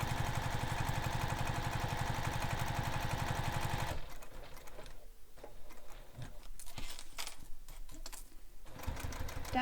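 A sewing machine stitches across the top edge of a messenger bag, with a dense steady mechanical whir for about four seconds, then lighter intermittent clicking and motor sounds. The machine is close and loud, and no one speaks.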